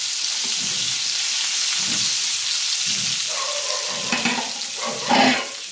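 Onions hit hot oil in a pan and are stirred, giving a steady sizzling hiss with a few soft scraping strokes and a louder stir near the end.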